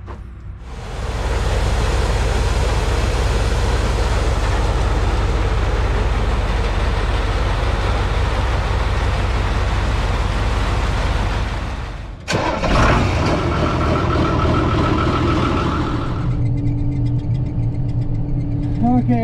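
A combine harvester's engine runs loud and steady for about twelve seconds, cuts briefly, then resumes with a rougher idle and some clunks as the machine is moved around the back toward a corn field.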